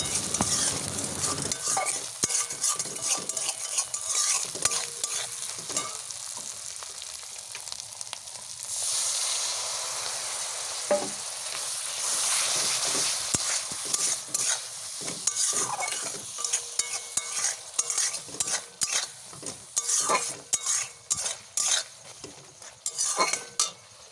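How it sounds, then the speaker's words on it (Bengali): A spice paste is stir-fried in a kadai with a continuous sizzle, while a spatula scrapes and clatters against the pan in a quickening rhythm that becomes choppy toward the end. "এই মশলাটা দিয়ে দেব কড়াইতে এই মশলাটা দিয়ে দেবো দিয়ে বেশ কিছুক্ষণ কষাবো"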